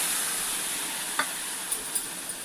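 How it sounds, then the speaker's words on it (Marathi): Milk poured onto roasted semolina in a hot pan sets off a steady loud sizzle and hiss, with a few light stirring clinks near the end. "आता आपण त्याच्यामध्ये लगेच एक वाटी दूध घेतलेला तो टाकूया"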